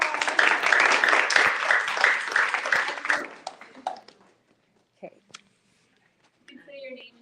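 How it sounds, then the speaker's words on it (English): Audience applause in a lecture setting, a dense burst of clapping for about three seconds that fades quickly, followed by scattered handling noises and quiet. "So let's give them another round of applause."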